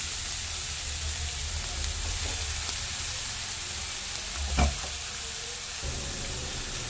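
Grated carrot sizzling in ghee in a pan: a steady, soft frying hiss runs throughout, with a brief louder stir or clatter near the end.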